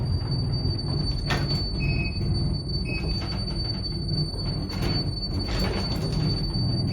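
An old Illinois birdcage elevator slipping as it climbs, a steady low mechanical rumble with high metallic squeals and thin whining tones layered over it, no voices.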